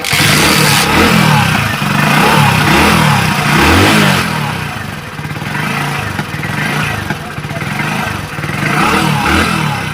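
Hero HF Deluxe BS6 motorcycle with a weak battery, its small single-cylinder engine running and revving up and down in loud, close bursts, with people talking nearby in a workshop.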